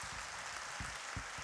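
Congregation applauding at a Korean church teacher appointment service, a faint, steady clatter of many hands with a few louder low thumps, heard alone.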